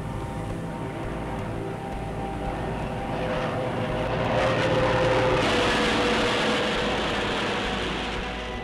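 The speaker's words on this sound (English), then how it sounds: "The aircraft glides. She's airborne. The takeoff was successful." A propeller aircraft lifts off and glides over the Swiss Alps after a rescue takeoff from the Gauli Glacier. Its steady engine drone and broadband roar build slightly partway through, with no talk.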